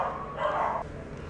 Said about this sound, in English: Oh, my dogs are barking.